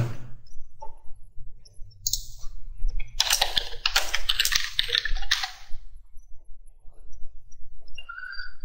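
Typing on a computer keyboard while entering text into a Joomla site form: irregular bursts of close, crisp key clicks, densest in the middle, with quiet gaps between.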